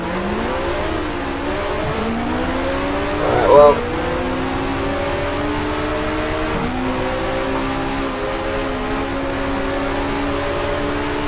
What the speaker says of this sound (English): I don't know if you guys can see how badly the car is drifting here